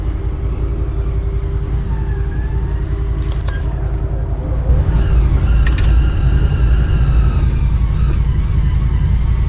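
CFMOTO UForce 1000 side-by-side driving along, a steady low engine drone and rumble with wind noise over it, getting slightly louder partway through, close to the microphone.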